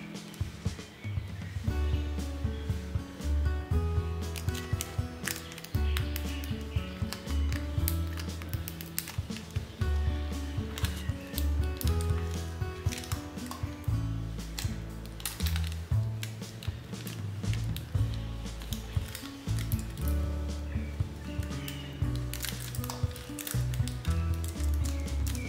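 Transfer foil being slowly peeled off a printed nail design after the foil glue has cured, a soft crinkly crackle of rustling and clicking bits that continues steadily, close and fairly quiet.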